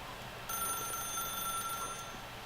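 A phone rings in The Stanley Parable video game, a bright electronic trill lasting about a second and a half over steady background hum.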